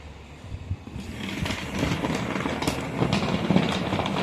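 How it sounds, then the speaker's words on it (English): A small 009 narrow-gauge scale model train runs along its track with a steady, close, continuous rattling clatter and whirring motor hum, growing slightly louder, with no talk. "the train will only run in the clockwise direction"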